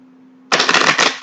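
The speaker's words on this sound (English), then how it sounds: "One more shuffle." Tarot cards being shuffled in a short, close, crisp riffle that bursts in after a moment of quiet hum.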